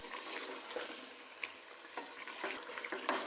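Homemade nihari masala for beef nihari is stirred in a cooking pot, giving soft, irregular scraping and clinking strokes over a quiet background with a faint sizzle.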